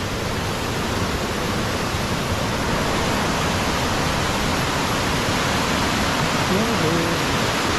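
Meenvallam waterfall in Palakkad pours with a dense, constant roaring rush of water, loud and unbroken from start to finish.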